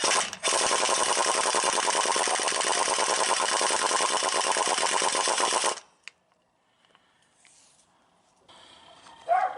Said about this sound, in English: An impact wrench with a short, just a swivel extension will just about be your best friend here.